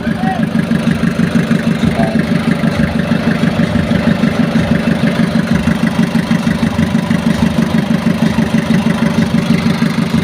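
A heavy Fuso 4D30 diesel engine idles steadily with a fast, even chugging rhythm, loud and close, running without a break throughout.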